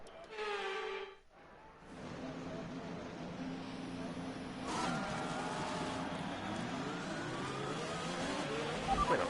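F1 race car in the F1 2021 video game at the Austrian round doing a practice start, a rising engine whine that builds and pulls away after a brief pause, loud and close.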